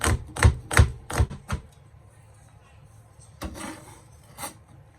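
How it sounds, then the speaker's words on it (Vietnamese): Garlic being minced with a knife on a cutting board while preparing Vietnamese grilled pork sausage: a quick burst of sharp chopping thuds in the first second and a half, then a pause and a few more chops, close and clear. "Mình băm cái tỏi này càng nhuyễn thì nó càng thơm."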